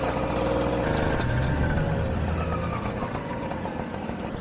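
A Puch moped's small engine runs steadily at close range, a continuous buzzing drone with a slight shift in pitch partway through, no voices over it.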